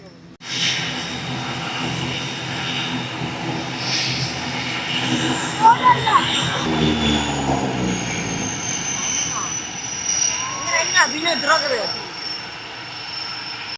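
A passenger airplane arriving at Jaffna airport from Trichy gives a sustained engine roar and whine at moderate distance, under a crowd's chatter and voices throughout.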